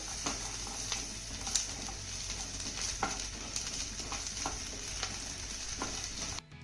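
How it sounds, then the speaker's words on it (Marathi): Ginger, green chillies and garlic roasting in a pan over medium flame make a soft, even sizzle broken by light stirring taps, ending abruptly. "आता मीडियम फ्लेमवरती हे सर्व साहित्य आपल्याला पुन्हा 2 ते 3 मिनिटं चांगलं भाजून घ्यायचंय."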